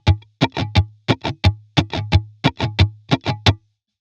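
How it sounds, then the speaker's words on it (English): Acoustic guitar strummed in a steady down-down-up pattern, a run of about fifteen crisp, even strokes ringing on a sustained low chord, played alone and close with no talking. "So the strum pattern is going to sound like this."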